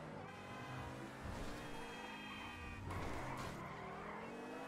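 An Ubermacht SC1 sports car in GTA Online accelerates with a rising, harmonic engine whine as tires squeal and skid, gear changes breaking the pitch climb, close and continuous without speech.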